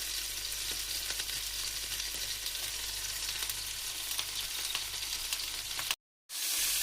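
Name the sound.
gyoza dumplings frying in a pan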